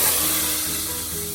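Loud, steady sizzling of hot oil tempering poured onto cooked lentils, a bright hissing crackle that fades slightly over a second or so.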